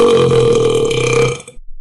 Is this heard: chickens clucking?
no